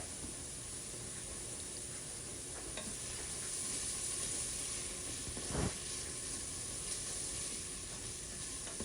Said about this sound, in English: We just continue to let that saute